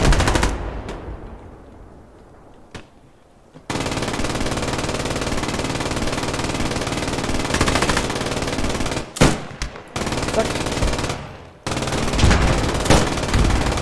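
Sustained bursts of machine-gun fire from the Post Scriptum battle game, loud and close, running almost continuously with a few short pauses and no talk.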